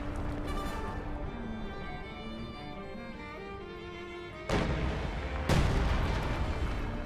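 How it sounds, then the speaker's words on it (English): Artillery shelling a base in a multiplayer war video game: two sudden heavy booms land about a second apart over a low, steady battlefield rumble. "Broom Bear's about to start firing into the base"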